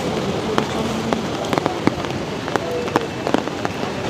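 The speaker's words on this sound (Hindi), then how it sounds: "बारिश 3 दिन से लगातार हो रही है यहाँ पे।" Heavy rain falling steadily during the trek to Kedarnath, a broad, close hiss of drops with scattered sharper taps and splashes on nearby surfaces throughout.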